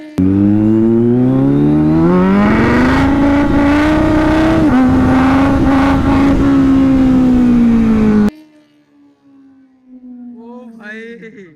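A motorcycle engine revs hard during a power wheelie, its pitch rising and holding high for several seconds, loud and close, then cutting off abruptly, followed by a fainter, distant engine note.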